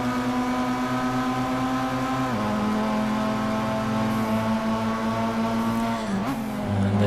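Race car engines in a racing video game drone steadily and loudly, holding a sustained harmonic pitch that dips slightly near the middle and shifts again toward the end, with no talk.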